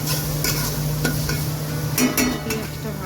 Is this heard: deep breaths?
no